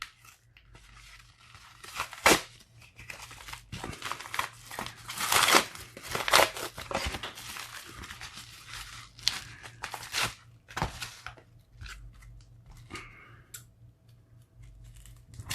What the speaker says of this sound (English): One more package to open and one more package to go back to.